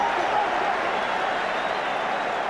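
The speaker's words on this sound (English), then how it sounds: "The crowd erupt." A rugby test match stadium crowd between South Africa and Ireland roars steadily after a kick, a dense, sustained wall of cheering and applause that stays loud and even throughout, with a commentator's voice faintly beneath.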